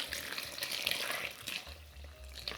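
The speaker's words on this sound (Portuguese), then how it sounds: "Vou colocar mais ou menos 1 litro de água a ferver." Boiling water, about a litre, poured onto corn flour to scald it for a moist cornbread, a steady splashing pour with bright hiss and gurgle, close and alone.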